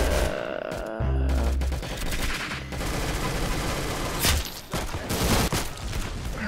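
Machine gun fire in the Roblox game Arsenal: loud rapid bursts of automatic shots in quick succession with a few brief gaps, dense and close, no talking.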